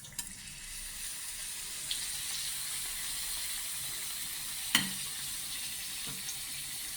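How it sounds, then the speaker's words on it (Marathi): Non-veg samosa sizzling in hot oil over a lowered flame, a steady broad frying hiss throughout with a few faint pops and one sharper crackle midway, no talking. "आता ह्याच्यात मी थोडं मंद करते विस्तव आणि हा समोसा मी ह्याच्यात सोडते."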